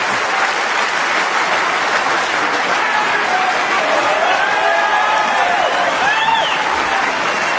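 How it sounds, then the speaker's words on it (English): Crowd at a snooker world championship applauding the title-winning moment, sustained loud clapping with some cheering that carries evenly from start to finish. "Peter Ebdon applauding Ronnie"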